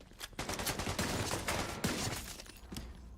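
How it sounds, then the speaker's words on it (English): Rapid gunfire from a weapon in the shooter game The Division 2, a close, dense burst of repeated shots over several seconds with scattered sharp cracks. "it's so weird shooting this gun"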